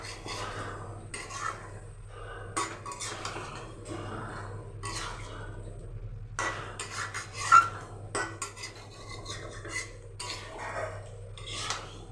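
Chicken pieces for a chicken kosha being fried and stirred in a pan, with a spatula scraping and clinking against metal in repeated bursts over a steady low kitchen hum.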